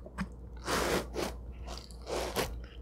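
Close, crunchy bites into the crispy crust of a giant cheese pizza slice: a few crackling crunches in quick succession, loud against a quiet background.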